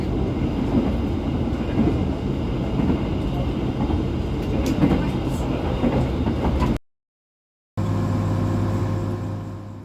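Motis Selatan passenger train running on rails, a steady loud rumble with faint wheel clatter that cuts out briefly and then resumes as a humming, tonal drone.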